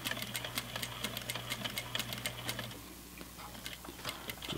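A sewing machine stitches across a fabric seam with a steady, fast ticking rhythm that runs for a few seconds and then fades to quieter, sparser clicks.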